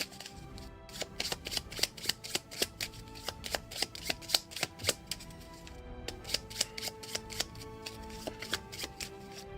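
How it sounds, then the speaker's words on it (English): A deck of cards for the board game Arydia: The Paths We Dare Tread is shuffled close up, giving rapid, crisp riffling bursts in a steady rhythm with short pauses, and no one speaks. "I think we're supposed to shuffle this every time."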